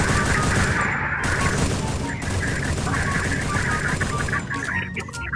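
Rapid gunfire sounds in a shooting video game, loud dense bursts blending into a continuous crackling barrage with booming impacts.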